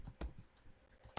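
Brief bursts of typing on a computer keyboard while entering a command into a command prompt, a few close, crisp key clicks separated by short pauses, with no talking.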